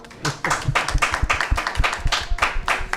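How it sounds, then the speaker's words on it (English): Hands clap in a rapid, uneven series of sharp, close claps running the whole time, loud and mostly alone with little voice. "Clap, clap, clap, clap."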